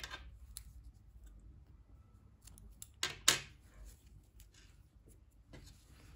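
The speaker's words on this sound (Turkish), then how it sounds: "Burada ipliği kesiyorum" Scissors snip through knitting yarn in one or two sharp, close clicks, set against a quiet room with faint handling noises before and after.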